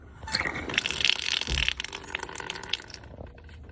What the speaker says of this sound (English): Exterior water faucets.